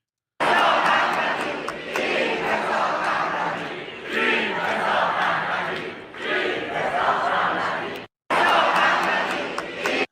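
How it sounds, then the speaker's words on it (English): A large crowd at a Reza Pahlavi speech cheers and shouts in loud sustained waves, with a brief cutoff before the roar resumes. "They're cheering for a foreign country."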